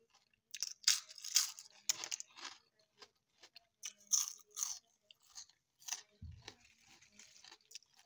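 Crisp, close chewing of crunchy fried spinach and Chinese pechay, with bursts of crackling bites and munching separated by short quiet gaps, and no talking.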